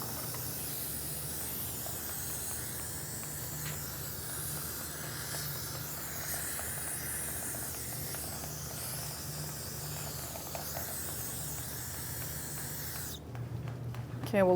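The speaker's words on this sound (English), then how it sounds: "Just get a little brake parts cleaner, clean it up." Brake parts cleaner hisses in a long, continuous spray onto the rear parking brake of a 2013-2018 Toyota RAV4, steady and close, ending with a clatter of handling noise.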